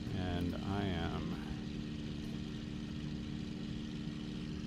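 A propeller aircraft engine in Microsoft Flight Simulator in VR, gear and flaps down on approach, gives a steady droning hum throughout, with someone talking briefly at the start.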